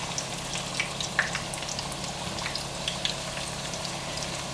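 Potatoes deep frying in hot oil make a steady, low-level sizzle with faint crackles and small pops scattered throughout, close and continuous with no talking.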